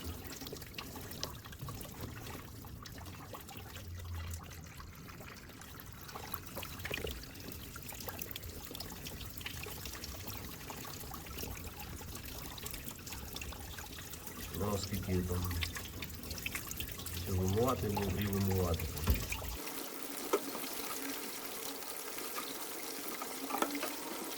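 Water flushes through the heat exchanger of a BMW E60 during an oil filter housing gasket repair, trickling and splashing continuously while someone talks now and then, then abruptly cuts off near the end.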